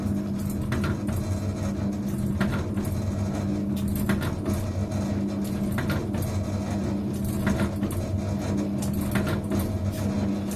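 Steady low hum and rhythmic mechanical whirr of a tablet disintegration test apparatus motor running in a lab during a paracetamol tablet test, continuous and moderately quiet.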